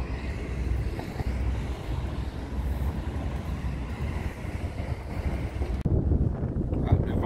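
Strong wind buffets the microphone outdoors on a muddy street, a continuous loud low rumble that runs throughout and eases near the end.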